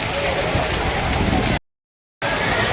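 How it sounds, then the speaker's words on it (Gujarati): Heavy, steady rain hisses close by, then cuts to brief silence before resuming just as strongly. "દાદાનો પ્રતાપ થયો છે વરસાદ પણ ચાલુ લાઈવ વરસાદ"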